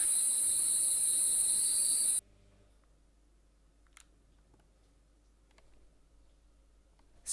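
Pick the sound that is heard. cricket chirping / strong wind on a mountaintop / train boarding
cricket chirping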